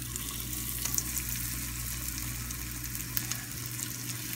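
Tofu pieces frying in a small pan on a stovetop give a steady, soft sizzle and bubbling hiss throughout, close and fairly quiet, with a few faint clicks and no voices.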